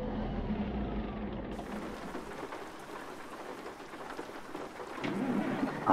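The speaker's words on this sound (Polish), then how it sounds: "Nawet burza, nie tylko deszcz" Steady rain pours in American Truck Simulator, with a deep rolling rumble of thunder underneath, the storm swelling louder toward the end.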